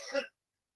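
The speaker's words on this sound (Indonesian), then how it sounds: "batuk" A single short, muffled cough, brief and fairly faint, followed by silence.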